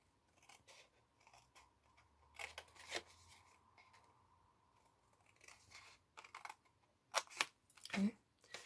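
Scissors snip through a plastic lotion bottle in short, close crisp bursts, several quick cuts clustered near the end, with faint handling noise between.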